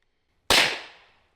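One loud pistol shot fires close by from silence, a sharp crack with a brief echoing tail that fades within a second.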